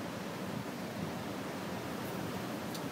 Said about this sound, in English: confused waves